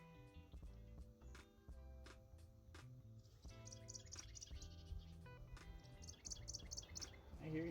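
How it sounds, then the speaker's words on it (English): A bird calls outdoors in short, repeated chirps, fairly faint, among light clanks and workshop sounds near a truck. "I hear you, bird."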